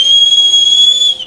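A steady, piercing high whistle holds one pitch for just over a second, loud and close, then cuts off abruptly with nothing else around it.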